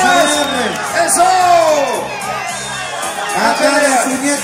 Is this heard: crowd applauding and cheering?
yes